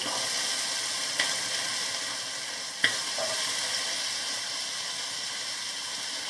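Potatoes hiss in hot oil with kalo jeere and panch phoron spices, a steady close sizzle broken by two sharp spatula knocks against the pan.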